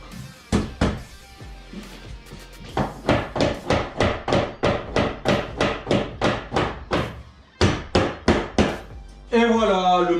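Hammer striking a piece to break it in two, a long run of loud, evenly spaced sharp blows, a couple of isolated hits first, then a brief pause before a final burst; a voice comes at the end.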